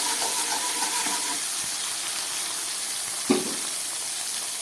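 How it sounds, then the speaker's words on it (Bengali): Spice paste of ground cumin and tomato frying in a pan for a taro dish with hilsa fish head, giving a steady close sizzle throughout, with one brief stir or clink near the end. "একটু মশলাটা কষিয়ে নিই"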